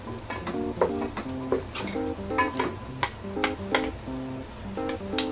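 Pork pata (pork leg) being stirred in a cooking pot while braising, with repeated ringing metallic scrapes and knocks of a utensil against the pot over a soft steady sizzle, no talking.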